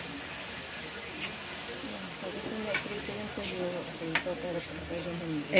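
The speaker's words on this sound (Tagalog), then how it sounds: "Nagisa na po yung bawang at saka sibuyas." Garlic and onion sauté in a pan for kinamatisang daing na tuyo, giving a soft, steady sizzle with scraping stirs and a few sharp clinks, close and fairly quiet throughout, with no talking.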